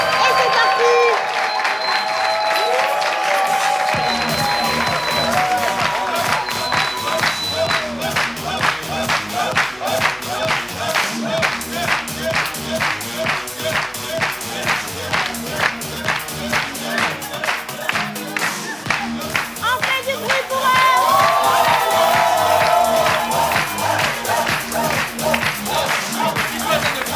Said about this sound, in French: on applaudit pour les candidats et c'est parti.